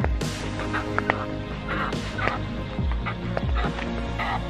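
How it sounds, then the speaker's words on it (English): A hen being herded into her coop at dusk clucks and calls in short bursts, with other fowl close by and steady rustling underneath. "One loose chicken. Get in."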